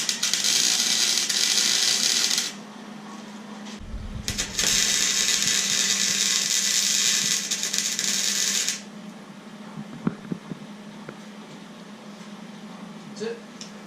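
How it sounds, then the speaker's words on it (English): A wire wheel cleans up metal parts ahead of welding in a bracket, running in two loud, sustained high-pitched bursts of grinding and scraping with a short pause between, then stopping into quieter shop noise. "I'm just going to take a wire wheel. I'm going to clean up these a little bit"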